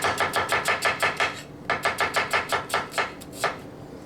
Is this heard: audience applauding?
no